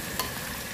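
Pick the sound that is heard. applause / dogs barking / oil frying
oil frying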